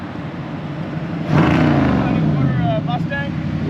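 A refurbished 1968 Mustang starts off with a sudden loud engine roar that climbs and holds as the car pulls away nearby, a voice speaking briefly over it.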